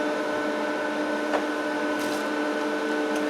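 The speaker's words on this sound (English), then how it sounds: "So we'll just grind that." An angle grinder grinds a weld bead from a cheap spool gun welder, producing a steady, droning whine with strong tonal hum throughout, heard alone at moderate loudness.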